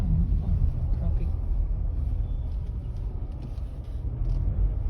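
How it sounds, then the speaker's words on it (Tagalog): Road traffic in La Salle, Philippines, where a tricycle has overturned: a steady, loud low rumble of passing vehicles and engines fills the scene throughout, with faint voices mixed into the background. "Traffic."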